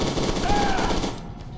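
Automatic rifle fire in the first-person shooter Fear 2: Project Origin, a dense, continuous burst of rapid gunshots up close and loud, tapering slightly near the end with no talk over it.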